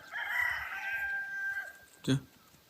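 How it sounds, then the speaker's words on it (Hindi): A rooster crows once, a long drawn-out call at moderate distance, followed by a short thump. "मुर्गी भी बांग गए"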